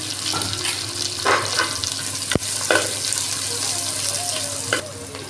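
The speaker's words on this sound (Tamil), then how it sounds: "வெங்காயத்தை போட்டு நல்லா கவத்தை வதக்கிக்கணும் சின்ன வெங்காயம் பெரிய வெங்காயம் ரெண்டு குழம்பு போட்டுருக்கேன்" Small and big onions sauté in a pan with a constant close sizzle, broken by scraping stirs and a sharp metallic clink partway through.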